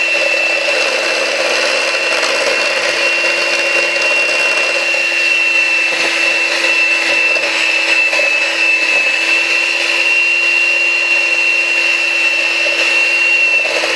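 An electric mixer mixes sugar cookie dough, giving a steady, loud, continuous motor whine with a constant hum that runs unbroken and alone throughout.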